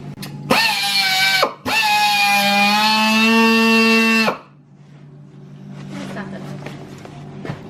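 A handheld power tool whines loudly while trimming during an LED headlight install on a car, in two close bursts with a short pause between, followed by quieter workshop noise.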